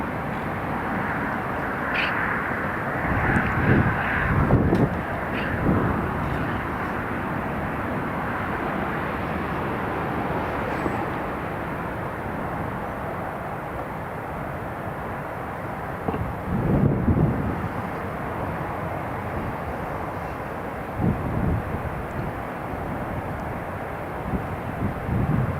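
An Italian Air Force C-27J transport lands at Newcastle International Airport and taxis, its engines a broad, steady roar rising and falling over about half a minute with gusty wind buffeting the microphone.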